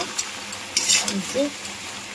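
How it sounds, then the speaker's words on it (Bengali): Cauliflower, potato and poppy seed curry cooking in a pan on a home stove, soft sizzling with a few stirring scrapes and light utensil taps, close and moderately quiet, with a faint voice briefly in the background. "তো চলো, এইদিকে রান্না বসিয়ে দিয়েছি। ফুলকপি আলু পোস্ত হচ্ছে"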